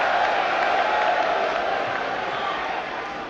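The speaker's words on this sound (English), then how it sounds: "I do not think it deserves clapping" An audience at a religious debate claps and murmurs in a steady, dense wash of applause that gradually fades slightly toward the end.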